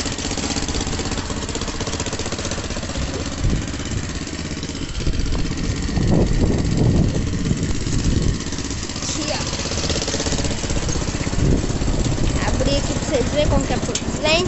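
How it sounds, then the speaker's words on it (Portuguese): A motorcycle engine fitted in a mini truck idles steadily with a low, rattling chug, close by, while people talk over it intermittently. "Esse é motor de moto."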